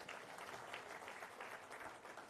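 Faint audience applause at a workshop hall event, a dense, steady patter of many hands clapping heard from a distance, continuous and soft throughout.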